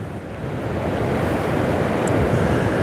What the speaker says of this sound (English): It's super windy here at the beach